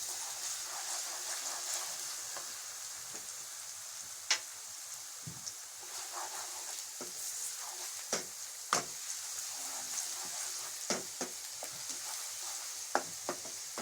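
Garlic ginger paste sizzles in a pan with golden brown onions, a steady hiss of frying broken by sharp pops and occasional stirring clicks, close by with no voices.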